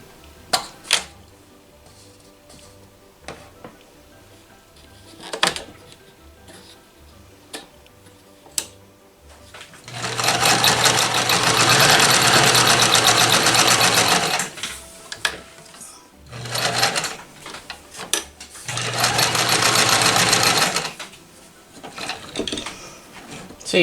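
A vintage Dressmaker sewing machine runs a straight stitch in two long, loud, fast steady whirring runs, preceded by scattered clicks and hand-turned ticking, with a short pause between the runs.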